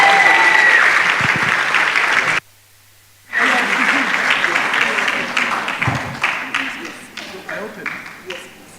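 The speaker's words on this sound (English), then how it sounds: "let's give him a round of applause as he makes his way here" An audience at the Kenya National Research Festival 2024 applauds a professor walking to the stage, with sustained dense clapping that breaks off briefly and then resumes, thinning into scattered individual claps.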